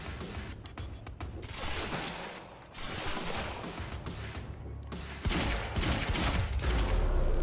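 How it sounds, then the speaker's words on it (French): Heavy pistol fire in the game Quantum Break booms amid dense action sounds, loud, rumbling shots and impacts layered over a continuous noisy battle mix with no talking. "Pistolet lourd"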